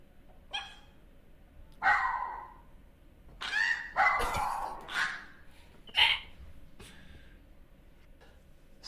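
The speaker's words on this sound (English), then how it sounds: "Let's see how this dog barks." A dog gives a series of short, sharp barks and yips at uneven intervals, about six in all. They sound fairly close but moderate in level, over a quiet, steady background hum.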